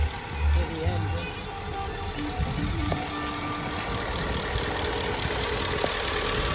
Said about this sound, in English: if you go really close in to the engine